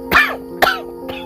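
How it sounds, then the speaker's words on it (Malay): Three sharp coughs, the first two strong and close together, the last fainter, each a harsh raspy burst separated by brief pauses, with no talking. "Sesekali batuk memanjang."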